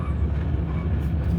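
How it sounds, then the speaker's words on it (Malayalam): Onboard a train heading to Frankfurt near Würzburg station, a steady low rumble of the moving carriage drones close and continuous, with faint rolling texture and no speech. "നമ്മൾ ഫ്രാങ്ക്ഫർട്ടിലേക്കുള്ള ട്രെയിനിൽ കയറിയിട്ടുണ്ട്."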